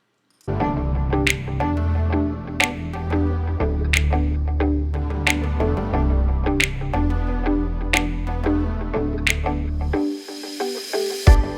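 A short burst of spray paint hisses onto the inside of a plastic bowl near the end, steady and close, after a stretch of rhythmic background music.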